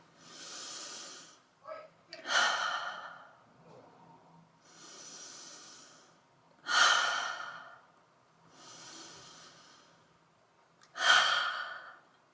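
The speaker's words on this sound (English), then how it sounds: "let's do some deep breaths together" Slow deep breaths taken in a calm breathing exercise: three long, airy inhales and exhales spread evenly across the span, each with a sharper, louder intake, close and alone with no talk.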